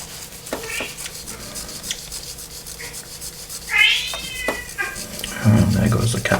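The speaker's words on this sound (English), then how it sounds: "And there goes the cat." A house cat meows in a room where a plastic model kit of a BAE Hawk jet is being built, one rising call in the middle followed by another mew, with rubbing noises and a low voice around it.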